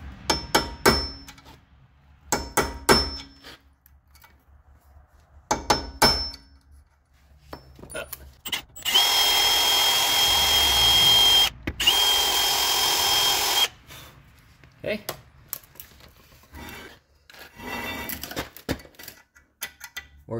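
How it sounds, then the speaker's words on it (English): A drill works out a stuck brake rotor screw: a few sharp taps, then a loud, steady drill run of about five seconds with one brief pause, followed by more light tapping and handling noises. "Sometimes you gotta drill a couple times."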